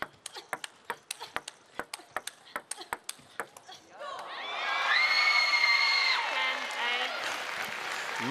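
Table tennis match at the 2024 World Championships quarterfinal, between women players: sharp ball pings trade in a steady rally, then a loud burst of crowd cheering, applause and shouting, including a scream from the players' bench.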